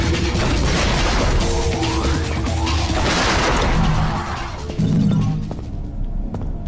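Grenade cannon blasts in a devil-hunting action video game crash and boom in a loud, dense barrage, with heavy impacts layered over one another and a final burst before the noise thins out.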